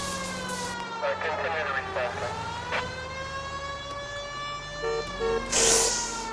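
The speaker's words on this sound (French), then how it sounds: "Oh, t'entends pas la sirène?" A police siren wails with a steady rising and falling tone in the Xbox Series X game L.A. Noire, sounding alongside a car engine while people talk over it.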